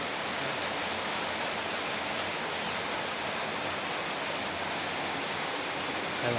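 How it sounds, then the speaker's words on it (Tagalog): Heavy rain pours down in a steady, even roar, broadband and continuous with no breaks or voices, a dense wash of falling water. "Kaya lakas ng ulan, no? Buhos."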